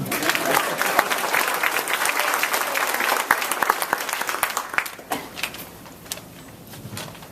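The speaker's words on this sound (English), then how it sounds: "You can clap for him if you want." Steady applause from an indoor crowd at a fifth-grade promotion ceremony, many hands clapping at once, gradually thinning into scattered claps toward the end.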